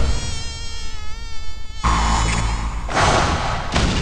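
Mosquito buzzing from an episode of the One-Punch Man anime: a steady, thin, high whine that holds for about two seconds, then gives way to louder, dense broadband bursts.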